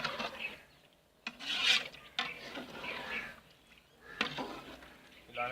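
A spoon scrapes and stirs through spiced masala and water in a cooking pot for carrot and chickpea rice before the rice goes in, giving soft intermittent rasping strokes at close range.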